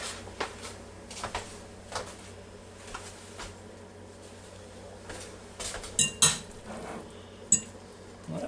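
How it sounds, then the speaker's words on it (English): A fork and dishes are handled after vegetables are steamed in an Instant Pot, with scattered clinks and taps of metal on dishware, quiet and close, some sharper knocks near the end and no speech. "Let me get a fork."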